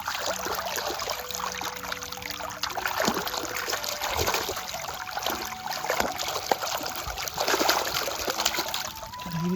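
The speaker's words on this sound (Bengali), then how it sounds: "আর এই দেখো ধানের জমিতে জল আসছে, দেখতেই পাচ্ছ, পুরো পরিষ্কার জল একদম" Clear water trickles and gurgles steadily into a rice paddy, with small splashes now and then, close by and continuous for the whole stretch.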